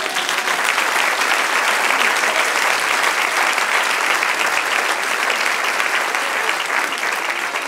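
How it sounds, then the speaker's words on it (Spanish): A church congregation applauds during a sermon, thick continuous clapping at a constant loud level, with no gaps or pauses throughout. "Denle un aplauso al Señor."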